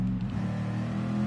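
Race car engine in Gran Turismo 7 holding a loud, steady drone, with a brief dip and shift in pitch near the start as a rough gear upshift goes through, then settling into continuous revving.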